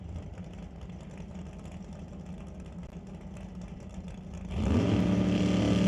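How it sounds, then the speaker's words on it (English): A drag racing dragster at a Smoke Fire and Thunder qualifying event: a steady low engine rumble under crowd noise, jumping abruptly to a much louder, broadband roar near the end as the car fires hard. "Steve Horn in that beautiful dragster"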